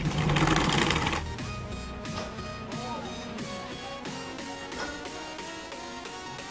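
A sewing machine stitches fabric down over a zipper on a maxi dress, a loud close run with a continuous whirring hum and a rapid rhythmic needle clatter throughout.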